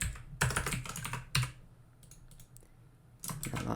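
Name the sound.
typing on a computer keyboard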